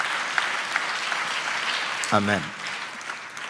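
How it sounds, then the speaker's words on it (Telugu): A church congregation claps in praise during a Telugu Christian sermon, a steady wash of hands from the crowd, with one voice briefly calling out over it midway. "చప్పట్లు కొడుతూ ఒక్కసారి యేసయ్యకి స్తోత్రాలు చెప్తాం"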